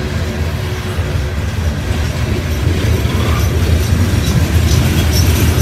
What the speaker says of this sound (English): This is the fourth train.